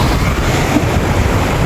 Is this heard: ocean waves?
yes